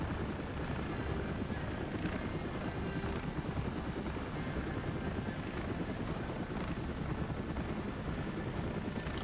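A helicopter in Operation Flashpoint drones on continuously, its rotor and engine noise a thick, even rumble that stays loud and close throughout, with no voices.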